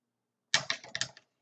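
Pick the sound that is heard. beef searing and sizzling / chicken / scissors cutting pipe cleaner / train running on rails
scissors cutting pipe cleaner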